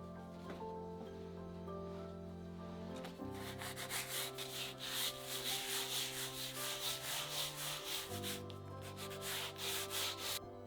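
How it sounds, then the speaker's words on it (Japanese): Sandpaper is rubbed lightly back and forth over dried, painted 2x4 wood for a wall shelf, a soft rhythmic scratching of repeated strokes that grows busier midway, quiet and alone. "乾いたら軽くヤスリがけをします。"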